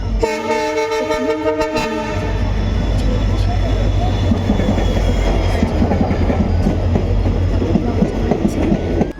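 A train rolls steadily along the rails with a loud, continuous rumble and clatter, and a sustained horn sounds at the start before fading.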